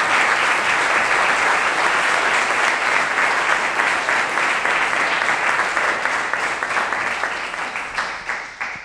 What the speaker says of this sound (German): Einen donnernden Applaus und herzlichen Dank.